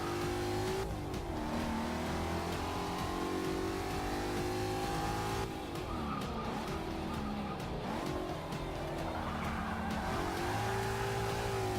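A Ford Mustang race car in Forza Motorsport 6 roars loudly and continuously, its engine pitch climbing and dropping through gear shifts as it accelerates hard, with brief tire squeal and other cars nearby.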